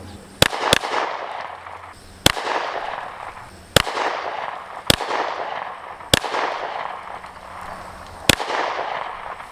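A PSA Dagger pistol fires six sharp, loud rounds at an outdoor range, a quick double shot followed by single shots spaced about one to two seconds apart, each ringing out with a short echo.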